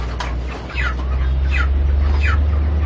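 Broiler chickens in a closed-house battery coop cluck in short repeated calls over a constant low fan hum, several birds at a moderate distance.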